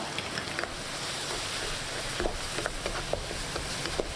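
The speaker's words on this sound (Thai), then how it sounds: "ผัดให้เข้ากัน" Bun filling stir-fried in a pan with sesame oil and a little orange-red food colouring gives a steady, moderate sizzle with light scraping and tapping from the stirring throughout.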